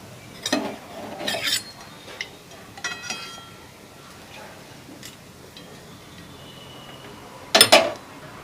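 Fried jackfruit koftas are lifted from a pan of oil with a metal utensil, making a few sharp clinks and scrapes against the pan, then quieter stretches and a louder clatter near the end.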